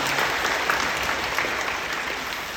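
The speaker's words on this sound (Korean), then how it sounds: "우리 박수로 감사해 주시고 고맙습니다" Congregation applauding inside a church during a Sunday worship service, steady dense clapping that holds at an even level throughout without breaks.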